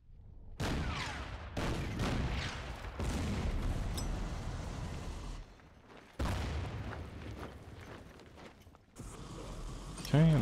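Battle gunfire and explosions from the wargame Order of Battle: Burma Road, as engineers attack Japanese forces on the Malay Peninsula. Repeated loud booming bursts and rattling volleys come in waves with brief lulls between them, and a voice speaks under the combat noise.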